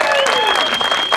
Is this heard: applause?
yes